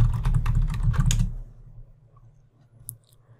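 A computer keyboard typed in a quick, close run of keystrokes for about a second and a half, then stopping, followed by a near-silent pause and one faint click.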